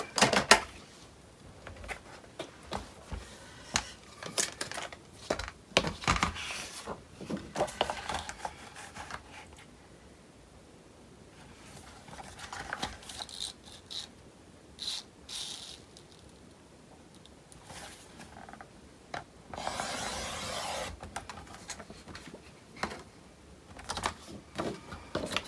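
Paper being cut to 8.5 inches for a mini album cover, with a quiet near run of rapid clicking, scraping and slicing strokes in irregular bursts, pausing briefly in between.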